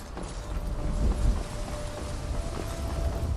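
Horse hooves running in the Skyrim video game, a steady, dense patter of galloping footfalls heard moderately loud against a low constant rumble, with no talk.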